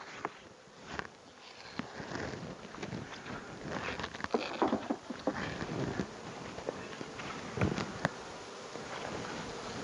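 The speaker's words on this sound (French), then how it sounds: "j'enlève toutes les abeilles" Honey bees buzz around a hive feeder at an apiary in November, a faint, uneven drone with scattered rustles, handling noises and light wind outdoors.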